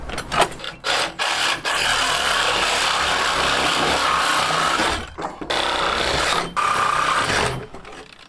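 A power saw cuts through wooden fence rails at the posts. A sustained harsh rasping whine runs for several seconds at a time, with short breaks between passes, loud and close outdoors.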